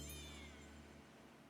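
Lucky cat item in Animal Crossing: New Horizons meowing, a single drawn-out electronic-sounding meow over a steady low hum, fairly quiet and unaccompanied by talk.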